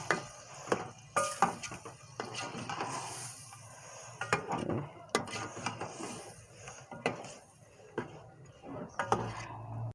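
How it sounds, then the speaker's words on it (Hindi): Chicken with yogurt and masala is stirred briskly in a pot for biryani, giving repeated scraping, clanking knocks of the spoon against metal with a faint sizzle underneath, steady and close throughout. "दही डाल के इसे तेज़ तेज़ जो है वो हिलाना है"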